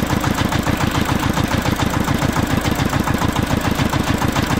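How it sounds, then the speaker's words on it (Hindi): A big tractor engine crossing a pit with a load of mangoes runs steadily with a fast, rough, pulsing chug, loud and close, with no voices over it. "तो चलो पहले अपना बड़ा ट्रैक्टर क्रॉस कर दें"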